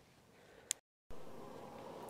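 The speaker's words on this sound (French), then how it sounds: "Les abeilles qui profitent des derniers rayons aussi." Honeybees gather in the last rays of sunshine, their buzzing a faint, steady drone that briefly drops out before resuming just as softly.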